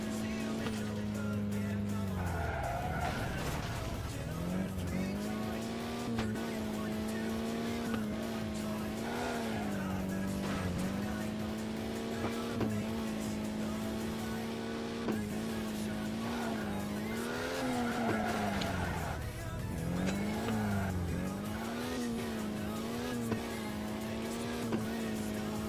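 Engine noise from a racing video game runs throughout, with repeated drawn-out tire squeals as the car slides under the handbrake, rising and falling in pitch at a steady moderate level.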